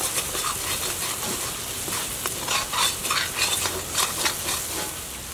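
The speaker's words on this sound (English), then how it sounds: "We're just going to stir all of that up, and we're going to allow it to cook." A spoon stirs goat curry paste in a pot, scraping and rustling over a steady close sizzle of the paste cooking in oil.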